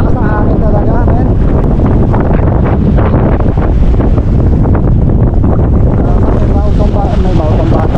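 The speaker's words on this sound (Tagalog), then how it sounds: "lakas ng hangin talaga" Strong wind buffeting the microphone aboard a small fishing boat at sea, a loud continuous roaring rumble with gusty low-end pressure and faint water sounds beneath.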